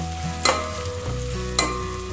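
Onions frying in a pan until golden brown, a steady soft sizzle with two sharp stirring clatters, recorded close with no talking.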